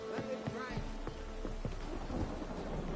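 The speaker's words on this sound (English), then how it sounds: "Let it rain." Steady rain with low rumbles of thunder, dense and continuous, faint muffled voices mixed in underneath, in the video game The Witcher 3.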